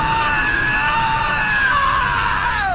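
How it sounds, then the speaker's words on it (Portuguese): Courage the Cowardly Dog, the cartoon character, lets out his famous long, loud, high-pitched scream that holds steady and then bends downward at the end, alone with no talk. "o Coragem dá um dos seus famosos gritos."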